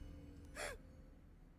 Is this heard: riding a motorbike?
no